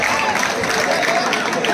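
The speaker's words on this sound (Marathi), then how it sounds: "मित्रांनो टाळ्या झाल्या पाहिजे" Spectators at a village kabaddi tournament match clap for a raid, a brief burst of loud, close applause mixed with crowd noise that lasts under two seconds.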